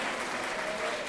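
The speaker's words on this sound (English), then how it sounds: "Let's give a big round of applause for them." Audience applause for school principals, coordinators and parents at an awards ceremony, a brief dense wash of clapping from a crowd at moderate distance.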